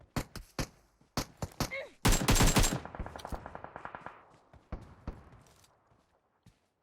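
Gunfire in PUBG Mobile: a string of sharp single shots, then a dense rapid automatic burst, then scattered fading shots and echoes at varying distances.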